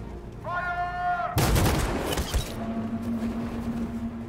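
A loud burst of gunfire erupts in the Detroit: Become Human video game, a dense volley lasting about a second amid game sound, with no talk.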